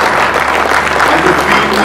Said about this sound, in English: I think she deserves a round of applause for going into that state